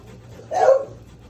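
A beagle in a home kitchen gives a single short bark or yip, fairly close and moderately loud, over quiet room sound.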